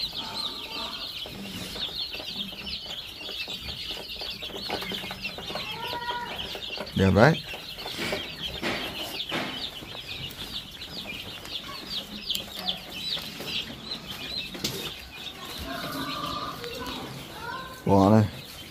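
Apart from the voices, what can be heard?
chickens clucking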